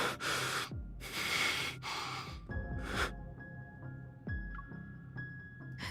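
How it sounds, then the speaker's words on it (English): Labored, pained breathing from a male character in the video game Love and Deepspace: several heavy gasps and ragged inhales and exhales, close and fairly quiet, separated by pauses under a faint sustained musical tone. "Zayne's labored breathing shows how intense the pain is"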